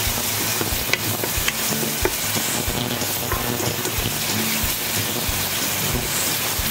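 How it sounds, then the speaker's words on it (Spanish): Garlic and chili fry hard in a pan for Piura-style atamalado, a loud, dense, continuous sizzle with constant spoon scraping and stirring close up. "freímos bien."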